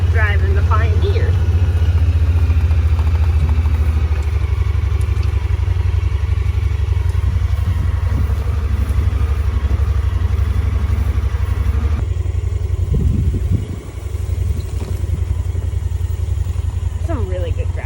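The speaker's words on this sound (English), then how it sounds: "Just driving the Pioneer." A Pioneer utility vehicle drives across pasture, its engine a loud, constant low drone with rattling and clatter, close by throughout, while a person talks over it.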